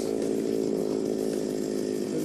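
Large saw blade cutting through shelf ice, a steady high-revving motorized drone held at constant pitch and loudness without pause.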